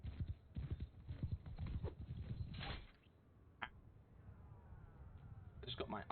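Horses gallop across the field in the Bannerlord video game during a Roman campaign battle, heard as a run of rapid clip-clop hoofbeats under a man's speech, fading mid-clip before hooves return near the end.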